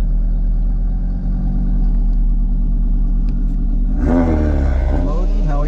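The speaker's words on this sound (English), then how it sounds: "he's about to do his burnout" A tuned Audi idles with a steady low rumble, then breaks into a loud revving burnout near the end, engine pitch rising and wavering while people talk nearby.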